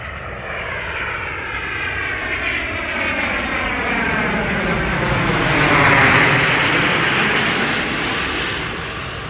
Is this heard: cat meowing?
no